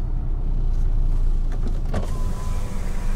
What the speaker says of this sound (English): mirrors are falling in